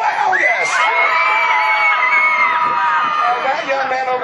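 A loud, sustained crowd of children and adults yells and cheers together at a pig race show, a dense wall of shouting and whoops holding steady throughout.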